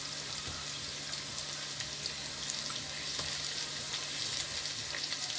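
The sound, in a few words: boerewors sausage frying in hot oil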